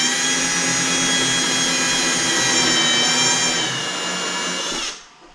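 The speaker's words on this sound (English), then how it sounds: "I'll start it, drill a hole." Power drill boring a hole, a loud, close, steady high-pitched whine that holds for about five seconds, dips slightly under load, then spins down and stops.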